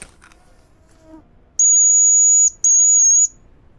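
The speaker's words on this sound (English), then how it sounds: "Listen to the mosquitoes." Mosquito-like insects whining in a video game scene, two steady high-pitched tones about a second each with a brief gap between, loud and close after a few quiet seconds.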